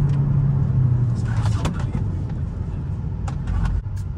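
A car engine accelerates, a loud, close rumbling drone that holds steady with a few brief higher bursts over a low throaty roar.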